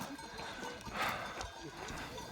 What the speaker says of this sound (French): on arrive au col de la Botte et il y a un troupeau de moutons